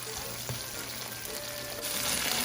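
Garlic, onions and a tablespoon of shrimp paste sizzle and fry in a pan for a Filipino string bean stir fry, a continuous crackling hiss close by with faint stirring clinks, swelling louder near the end.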